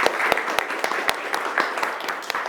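An audience at a university presentation session applauding, a dense, steady patter of many hands clapping at close to moderate distance, with a few sharper individual claps standing out.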